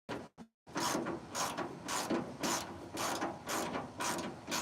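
Ratchet loosening a bolt during the teardown of a 1965 Chevelle SS, a brief click and pause, then steady rhythmic ratcheting strokes about every half second, close and loud.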